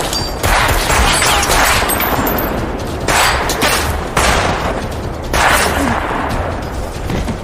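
Heavy gunfire in the film The Ghost: loud, close bursts of shots with sharp impacts, repeating in waves over a dense action soundtrack.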